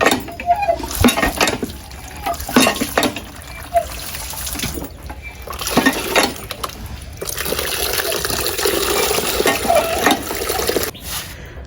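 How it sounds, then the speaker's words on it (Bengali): Water poured and splashing into a cooking pot to soak chicken in a rural home kitchen, with intermittent splashes and clatter of the vessel, building into a steady filling rush over the last few seconds. "এই যে এটাতে পানি ভরা শেষ"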